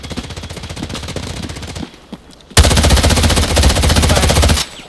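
Machine gun fire in the shooter Delta Force Hawk Ops: a steady rattling burst of rapid shots, a brief lull with a few isolated cracks, then a louder, closer sustained volley that cuts off sharply near the end.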